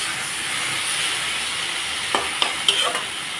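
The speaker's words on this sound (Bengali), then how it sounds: "সবজিগুলোকে ভাজা করে নিলাম" Vegetables including chopped tomato frying in a pan, a loud continuous sizzle with a few scraping stirs of a spatula toward the end.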